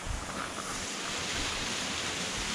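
Steady broadband rush of a waterfall along Old Union Road in icy winter conditions, a continuous loud roar of falling water with wind-like texture and no voices.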